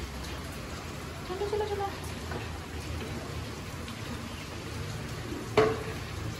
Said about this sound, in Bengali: বেশ ভালোই বৃষ্টি হচ্ছে।